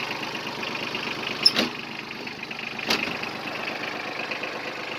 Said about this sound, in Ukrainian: Рівненька робота двигуна, просто без зауважень і це на холодне.